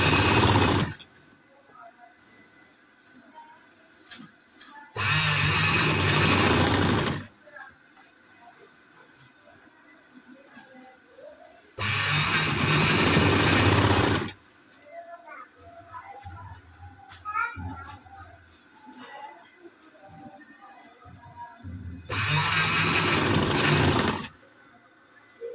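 A sewing machine stitches a full sleeve on a winter garment in a quiet room, running in three or four loud, steady bursts of a few seconds each, with quieter handling noise between them.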